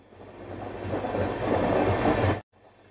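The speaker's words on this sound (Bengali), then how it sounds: "ট্রেনের গতি তাই অনেকটা নিয়ন্ত্রিত এই অঞ্চলে" The Kanchankanya Express rolls through the Dooars forest region at controlled speed, a steady rumble with a high metallic whine that builds, then cuts off abruptly near the end.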